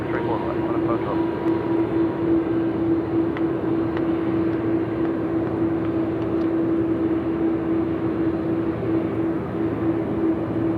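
Airliner engines at Sydney Airport drone steadily with a strong sustained hum for the whole stretch, a distant continuous roar with faint talk beneath.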